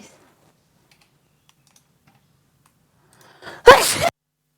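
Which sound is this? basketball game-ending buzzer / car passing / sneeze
sneeze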